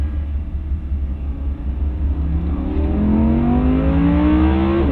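Audi R8 road car driven on a hot lap by a Le Mans winner, its engine a loud, steady close rumble that climbs in pitch as it revs hard toward the end, with no talking.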